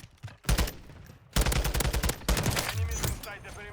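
Automatic gunfire in a Call of Duty MW3 multiplayer match with a TAQ 56 rifle, two loud bursts of rapid shots close by, with a voice talking under the firing.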